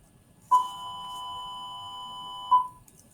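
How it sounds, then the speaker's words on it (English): An electronic bell chimes twice, two seconds apart, with a steady ringing tone held between the strikes before fading, clear and alone with no talk. "excuse the bell"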